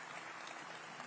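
A conference audience claps for a moment, giving a dense, even patter of many hands at a fairly low level. No one speaks over it.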